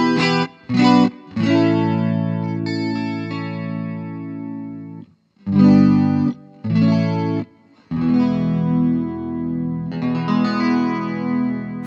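Electric guitar through a Vox DA5 practice amp set to chorus with reverb, strummed chords and short stabs in phrases separated by brief pauses, the tone shimmering and ringing out with a reverb tail, played alone.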